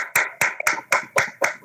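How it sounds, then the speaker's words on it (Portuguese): A church congregation applauds its pastors with about six loud, evenly spaced claps, one sharp clap roughly every quarter second, close by and with no talking. "vamos aplaudir os pastores"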